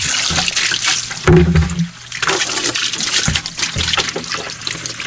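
Water sprays hard onto the body of an electric golf cart, a loud continuous hissing spatter close by, briefly deepening as the stream hits different panels, with no voices.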